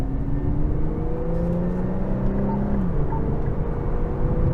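A 2023 Infiniti Q50 Red Sport engine hums steadily and climbs in pitch as it accelerates, loud and close, with a brief dip before the revs rise again. No one speaks.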